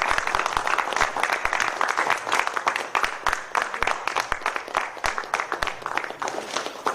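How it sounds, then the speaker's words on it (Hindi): Theater audience applauding the actors at a festival performance, a dense, continuous wash of many hands clapping, fairly loud and sustained throughout. "सबसे ज्यादा हकदार इन तालियों का हमारे कलाकार हैं"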